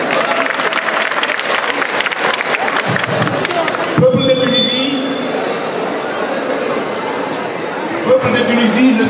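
A large audience at a Senegalese storytelling performance in Tunisia bursts into sustained applause, dense clapping filling the room, then dropping as a voice speaks over the fading crowd noise.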